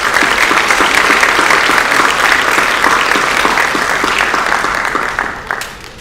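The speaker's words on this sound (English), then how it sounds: "So they deserve a round of applause." A school auditorium audience gives sustained, loud applause for junior varsity baseball players at an athletics awards event, an even wash of many hands clapping that tapers off near the end.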